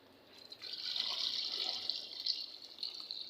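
Water pours steadily from a vessel onto half a kilo of washed potatoes in a pot, a continuous close splashing stream lasting a few seconds before tapering off.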